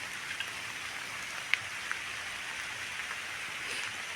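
Heavy monsoon rain falls in a steady, even hiss in a Konkan village, with a few sharper drops standing out.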